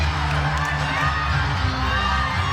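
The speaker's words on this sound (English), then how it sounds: "And the crowd lets her know it as well." Sustained crowd cheering and shouting at a college women's gymnastics meet, a dense, steady roar filling the arena after a routine with no pauses.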